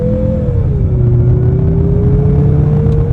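A 2023 Mazda CX-50 Turbo accelerating under throttle on a test drive, a loud close engine drone with a steady rising-then-settling tone and road rumble beneath, no talk.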